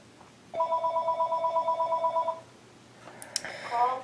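A telephone rings indoors during a polymer clay tutorial: a loud, steady trill of rapid repeated electronic bell pulses lasting about two seconds, then quieter clatter and a brief second ringing burst.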